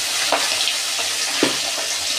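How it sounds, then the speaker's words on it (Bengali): Tangra fish frying in hot mustard oil in a kadai, giving a steady close sizzle with a couple of brief stirring clinks. "এবার আমি ট্যাংরা মাছগুলো দিয়ে ভেজে নেব।"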